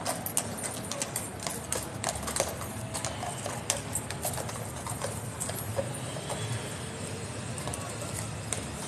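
Hooves of two King's Guard horses clip-clop steadily at Horse Guards in London, a continuous close patter of hoof strikes under crowd bustle and distant city noise.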